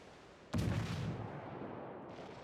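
A single heavy warship gun salvo booms in World of Warships, a sudden loud blast with a long rumbling decay tailing off over the following seconds.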